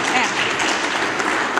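Steady clapping from an audience at a union training event, a dense continuous patter that holds for the whole moment, with voices mixed in beneath it.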